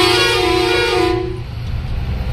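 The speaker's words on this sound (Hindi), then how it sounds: "तो भाई हॉर्न कुछ ऐसे बजा" A truck's horn on a highway, the Delhi–Mumbai Expressway, gives one loud, sustained multi-tone blast for about a second and a half, then fades into the low rumble of the road.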